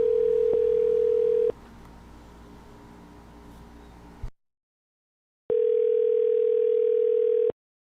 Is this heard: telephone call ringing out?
yes